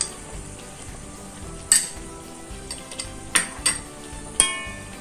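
A spoon stirs chili garlic chicken with soy sauce and chili sauce in a hot pan, giving a low steady sizzle broken by a few sharp clicks and scrapes of utensil on metal. No one speaks.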